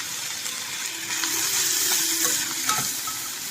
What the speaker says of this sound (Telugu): ఇప్పుడు ఉల్లిపాయ కొంచెం వేగింది కదా ఈ రెండు టమాటాలు వేసేసుకుందాం